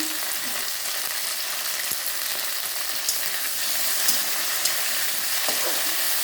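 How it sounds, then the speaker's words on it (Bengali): Raw tomatoes and slit green chillies stir-fry loudly in a pan, a strong, constant sizzling hiss with a few soft scraping stirs breaking through. "এবার নাড়াচাড়া করবো"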